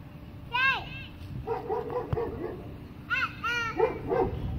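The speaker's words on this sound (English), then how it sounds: "Okay, Jackson, here's the dog." A dog barks outdoors in a yard before a bike ride. It lets out two bursts of several quick, yappy barks at close range, with a voice and light activity in between.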